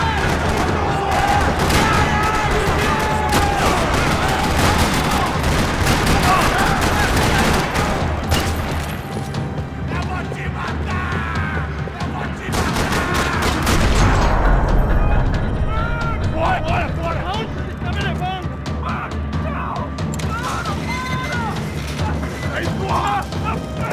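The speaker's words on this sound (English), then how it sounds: "Another parking lot rattling with gunfire." Rattling bursts of gunfire echo through a parking lot in the Max Payne 3 video game, dense and continuous under loud game music and effects, with voices talking over the action.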